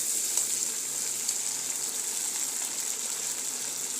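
Potatoes and onions fry in a pan with a steady, close sizzle, a continuous bright hiss that holds evenly throughout with no talking.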